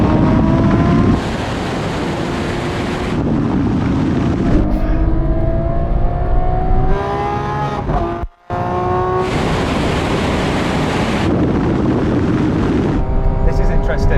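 Ferrari 812 Superfast, Lamborghini Aventador SVJ and Porsche 911 Turbo S accelerating hard from 50 mph in a rolling race, loud sustained engine roar with rising gear pulls and shifts, heavy wind rush, and a brief dropout midway.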